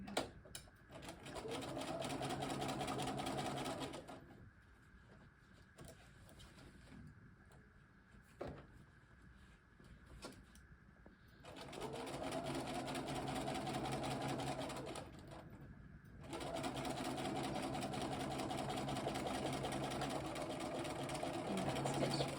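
A sewing machine stitches a soldier jacket sleeve in bursts: a long steady whirring run, a quieter pause with small handling noises, then two more sustained runs separated by a short stop, close-up and without speech.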